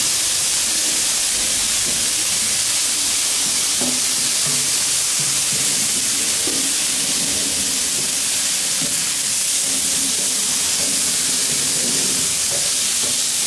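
Chicken with broccoli and Brussels sprouts sizzles on a flat top griddle, a loud steady hiss broken by scattered scrapes and clanks of tossing, no voices.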